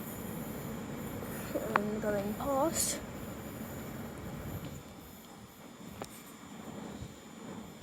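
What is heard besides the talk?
train approaching at Kettering station, Midland Main Line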